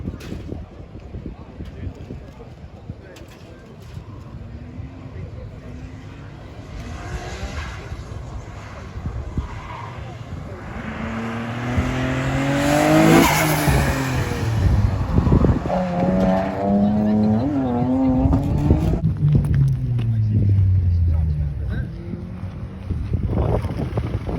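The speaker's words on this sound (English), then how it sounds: "Clutch kicking, man. He's gonna burn that thing out there." A car doing a clutch-kick burnout at a track and show day, engine revs rising and falling in repeated surges with tyre noise building in the middle, heard from nearby amid wind buffeting and people talking.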